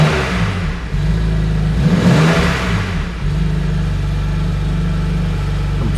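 A BMW M2 Competition engine idles with a low, steady rumble, then revs up loudly around the second mark and settles back to a constant idle.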